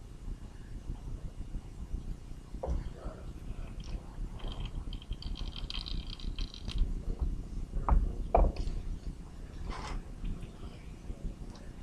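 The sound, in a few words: car A/C compressor clutch being cycled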